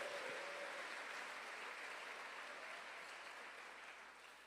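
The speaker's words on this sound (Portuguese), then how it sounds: "dê uma salva de palmas e um glória a Deus bem alto aí" A church congregation applauds in a dense, even patter of many hands that holds steady and then slowly fades toward the end, with no voices over it.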